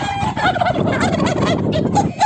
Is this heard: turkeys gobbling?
yes